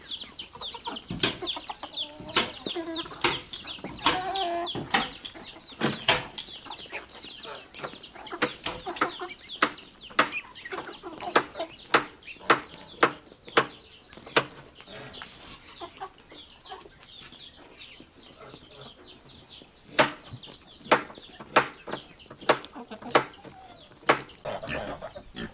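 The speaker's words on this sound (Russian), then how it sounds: "тут куры на одну половину нападают, на вторую половину тут куры нападают" Backyard chickens cluck and squabble steadily as feed is thrown to them, with sharp pecking taps and scattered close clucks throughout, no talking.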